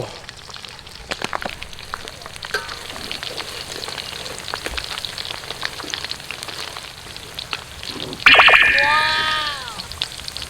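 Squid fries in hot oil outdoors by a pond, a steady soft crackling sizzle with scattered pops, then a louder burst of bubbling near the end that slowly settles; no one speaks.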